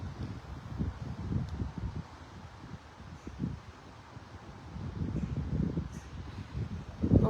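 Wind blowing outdoors near Stockton-on-Tees, a low rushing roar that swells and fades in gusts, with faint rustling and no voices.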